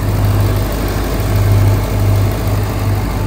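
A 2023 Ram TRX truck engine runs loud and close, a steady low rumble with a gentle swell in revs midway and no voices.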